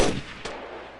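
A sharp single shot from an Uzi cracks out close and loud, followed by a second fainter report about half a second later, each decaying quickly.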